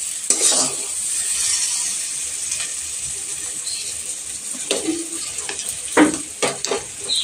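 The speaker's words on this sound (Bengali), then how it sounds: "তো দেখো খিচুড়ি ফুটছে, তবে একটু উঁটলে উঁটলে যাচ্ছে, নাড়তে হচ্ছে" Thick khichuri of rice and dal bubbles in a pot while a spoon stirs it, a steady close hiss with scattered scraping knocks against the pot, and no talk.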